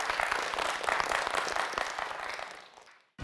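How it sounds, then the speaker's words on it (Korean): A studio audience claps for a student quiz contestant, dense steady applause that fades out near the end, with no speech over it. "오늘 최선을 다해준 우리 구도현 학생에게도 큰 박수 부탁드립니다"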